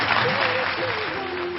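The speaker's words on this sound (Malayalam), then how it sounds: "പ്രത്യേക ഒരു ഭയങ്കര ഒരു കൈയടി വേണം ശരിക്കും" An audience applauds a singer with steady clapping throughout, while a voice carries on over the applause.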